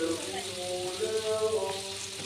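Liver stir-frying with soy sauce in a pan, a soft continuous sizzle with faint stirring, moderately quiet and close.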